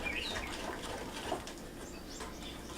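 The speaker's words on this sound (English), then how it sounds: "And the birds are singing like crazy." Birds chirping and calling outdoors, fairly faint and scattered, with a few brighter high chirps over a steady background hum.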